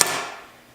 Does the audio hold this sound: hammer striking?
yes